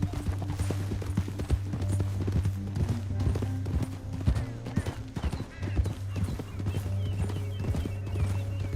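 Horse hooves clip-clop in a quick, uneven rhythm over a low steady hum, with a clattering backdrop from the video game Red Dead Redemption II.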